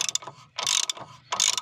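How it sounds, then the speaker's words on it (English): A ratchet wrench tightens a bolt on the alternator of a Ford Mondeo Mk3, giving three close, loud bursts of rapid metallic clicking separated by short pauses. "you just tighten the bolt up, and that should push it, the lever underneath down to push the stud up and break that seal"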